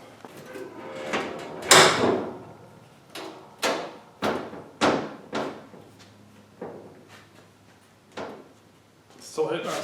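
The hood of a 1970 AMC Javelin fitted with a ram air hood is lowered and shut repeatedly, a series of sharp metallic thumps and clunks several times in a row, close by, with no talk over them.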